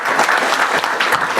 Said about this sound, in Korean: 잘했다고 박수 쳐주신 거죠? 네. 다시 한번 치겠습니다.